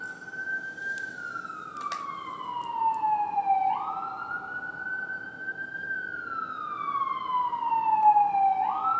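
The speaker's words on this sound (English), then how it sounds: "I live near a hospital, so you'll hear sirens" A wailing emergency siren rises and falls in long sweeps, steady and moderately loud, passing at some distance with faint traffic rumble beneath.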